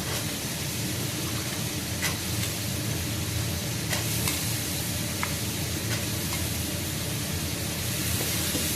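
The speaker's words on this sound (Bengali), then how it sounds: "অল্প ভেজে নেব আমি এখন মটরশুঁটিগুলো দিয়ে দেবো" Green peas fry in a pan with spice paste, giving a loud, steady sizzle that runs throughout, with a few light clicks of a spoon stirring.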